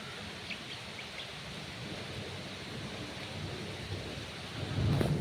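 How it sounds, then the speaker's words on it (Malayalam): Heavy rain falls outside during a thunderstorm, heard from indoors as a steady, moderately faint hiss. Low rumbling swells slightly near the end, and there is no talking. "നല്ല മഴ കേട്ടോ പുറത്ത്."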